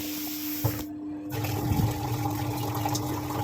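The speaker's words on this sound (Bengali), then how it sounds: "এদিকে সব বোতলগুলো ভরছি।" Tap water runs steadily into bottles in a home kitchen, a continuous close rushing and gurgling that grows slightly fuller partway through, with a faint electrical hum beneath and no talk.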